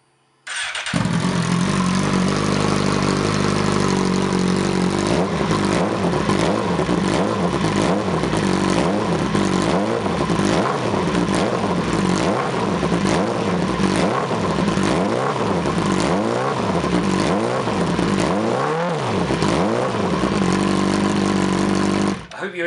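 A 2017 Suzuki GSX-R 1000 with a TMR aftermarket exhaust fires up and revs repeatedly, loud close blips rising and falling in a steady rhythm over a rumbling idle.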